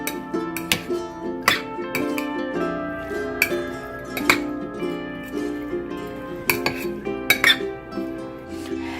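Spoon clinking against a bowl as dry fish is mixed with chili flakes and chopped green chilies, irregular close taps and scrapes over background music.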